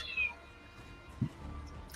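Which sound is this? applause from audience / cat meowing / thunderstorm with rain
cat meowing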